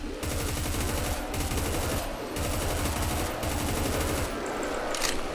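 MK-16 MOD 2 rifle in the Roblox shooter Deadfront firing long sustained automatic bursts, loud and close, with brief gaps between strings of rapid shots.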